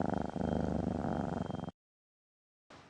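A pet cat purrs steadily and close, a continuous rhythmic rumble lasting under two seconds, then silence before a brief return at the end.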